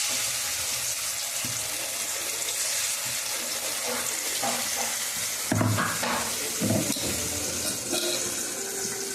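A ground paste of ginger, garlic, onion, tomato and green chilli sizzles in hot oil while being stirred, a steady frying hiss with scraping clinks from the spoon midway.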